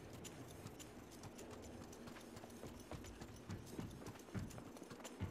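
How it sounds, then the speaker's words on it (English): A player's own footsteps in the game Apex Legends form a steady rapid patter of soft thuds under a dense, noisy game bed, continuous throughout and fairly quiet. "Those are my own footsteps."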